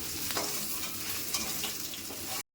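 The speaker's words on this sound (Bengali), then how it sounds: "এবার আলুগুলো ভেজে নিচ্ছি।" Potatoes fry in oil in a pan with a dense, close sizzle and crackle, broken by light stirring knocks, before the sound cuts off abruptly.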